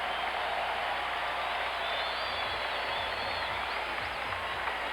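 Basketball arena crowd at the 1977 NBA Finals Game 6 in Portland roars continuously, a loud dense wall of cheering and applause with no breaks, whistles rising faintly above it.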